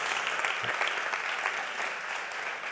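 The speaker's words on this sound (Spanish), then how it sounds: "Aquí se aplaude, por favor" Conference audience applauding, a steady, fairly quiet and uniform patter of many hands clapping, heard alone throughout.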